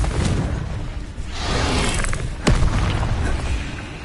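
A Confringo explosive spell cast in Hogwarts Legacy: a dense, roaring blast with whooshing bursts and a sharp crack partway through, continuous and loud with no talk.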